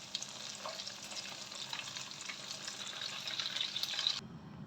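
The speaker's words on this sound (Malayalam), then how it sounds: "ഇനി നമുക്കിത് ഇതുപോലെ തന്നെ എല്ലാ ചിക്കൻ പീസസ് ഇതിനകത്തിട്ട് ഫ്രൈ ചെയ്തെടുക്കാം" Chicken pieces sizzle and crackle steadily in hot oil in a pan, a close, continuous frying hiss with occasional stirring, cutting off abruptly at the end.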